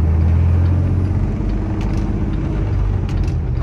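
Kenworth T-680 2019 truck with a faulty PACCAR transmission running steadily as it works up through the gears, a loud continuous low engine drone close by with no clear pauses or talk.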